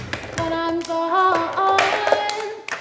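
Rhythmic hand clapping in a children's language-teaching chant, sharp claps mixed with singing voices and music in a lively classroom setting.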